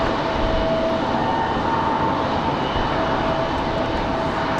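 A Delta Boeing 737 takes off at Raleigh-Durham airport, its jet engines giving a steady, loud, broadband roar that holds evenly throughout with no voices.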